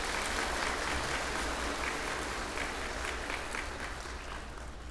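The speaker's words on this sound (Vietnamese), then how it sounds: "Và quý vị nhiệt liệt cho một tràng pháo tay." Sustained applause from an audience at a Buddhist gathering with visiting monks and nuns, a dense steady wash of many hands clapping that stays loud throughout and tapers slightly toward the end.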